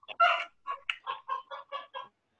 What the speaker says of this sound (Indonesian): Jadi kandang ayam.